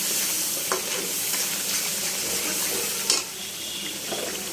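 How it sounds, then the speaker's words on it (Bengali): Chicken curry stir-fried in a pan, with a continuous close sizzle broken by scraping stirs and a couple of sharper clinks of the spatula, without speech. "সুন্দর করে কষানো হয়ে যাচ্ছে।"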